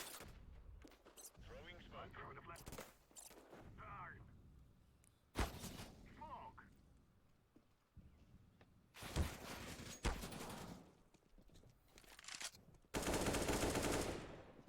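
Video game gunfire crackles in several short automatic bursts and single shots, some loud and close, separated by quieter stretches where voices can be heard.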